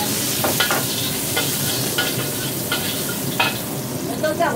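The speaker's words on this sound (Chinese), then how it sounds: "爆香。" Aromatics stir-fried in a wok before adding bok choy in a home kitchen: a steady, close oily sizzle broken by repeated short scrapes and clacks of the spatula against the pan, with no talking.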